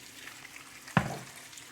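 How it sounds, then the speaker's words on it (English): Hot water pours into a cooking pot for Nigerian efo riro vegetable stew, a single sudden splash and brief gush over a quiet kitchen background. "So I've added the hot water."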